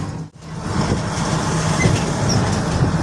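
A train rolls along a rail line running beneath a bridge, a steady rumble with faint rhythmic wheel clatter, moderately close and continuous.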